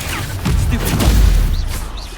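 An Incendio fire spell goes off in Hogwarts Legacy, a rushing burst of flame with a low booming swell that builds and fades over about two seconds, surrounded by dense game battle noise.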